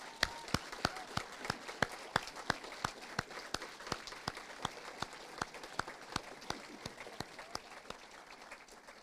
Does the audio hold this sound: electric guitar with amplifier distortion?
no